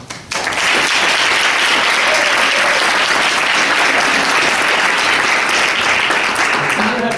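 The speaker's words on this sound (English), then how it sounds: "I want to give her a round of applause for that." A room full of people at a community discussion on homelessness and Monroe Park bursts into loud, sustained applause that starts quickly and holds steady, with faint voices mixed in.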